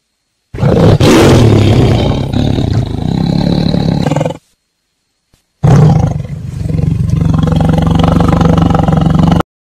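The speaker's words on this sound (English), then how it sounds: "Bengal tiger roars." A Bengal tiger gives two powerful, close roars, each a deep rumbling blast lasting a few seconds, separated by a brief silence.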